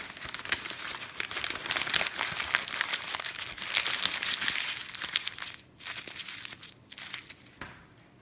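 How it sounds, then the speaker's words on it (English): A sheet of paper being crumpled by hand, close-up and continuous, with dense crackling and crinkling bursts that ease off briefly near the end before a few final crunches. "When I just crumple the paper"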